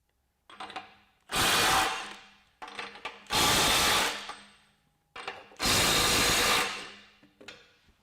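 A Milwaukee compact impact wrench fires three loud, hammering bursts of about a second each. Between them come short ratcheting clicks and quiet pauses, all close up and alone.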